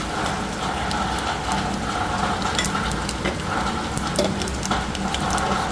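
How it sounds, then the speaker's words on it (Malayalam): Whole cardamom, cloves, star anise and fennel seeds with salt hit hot coconut oil for a Mughlai mutton curry, giving a steady, close crackling sizzle that stays even throughout with no voices. "വേലയ്ക്ക ഗ്രാമ്പ് തക്കോല ഉപ്പ് കുറച്ച് പെരുകീരകം ഇതെല്ലാം നമ്മളിവിടെ ചൂടായ എണ്ണയിലേക്ക് ഇട്ട് കൊടുക്കാം"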